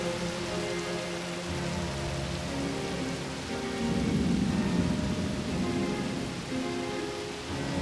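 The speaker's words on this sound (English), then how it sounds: "That storm's closing in." Steady rain pours with rolling thunder rumbling in the low end as a storm draws near on an island in the Agatha Christie: And Then There Were None video game, swelling louder midway through.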